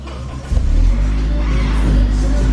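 An Acura RSX with a newly fitted exhaust fires up for the first time, a starter whir giving way to a loud, close, steady idle rumble.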